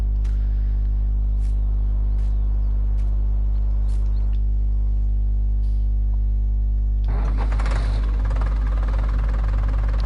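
A 1090 tractor engine idling in the This is Ireland farming video game, a steady low droning hum with regular faint ticks, roughening into a louder, harsher running note toward the end.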